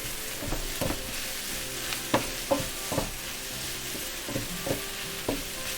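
Seasoned onions caramelizing in a pan, a soft steady sizzle broken by a series of light scraping stirs at irregular intervals, close and quiet with no talking.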